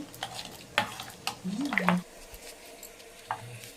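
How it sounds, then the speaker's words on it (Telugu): Buttermilk whisked in a bowl gives a few quick wet swirling strokes and light clinks, close and brief, with short pauses between bursts and little speech. "అది విస్కర్తో ఇలాగ మొత్తం నీట్గా ఇలా తిప్పేసుకున్నాను ఉండలు లేకుండా"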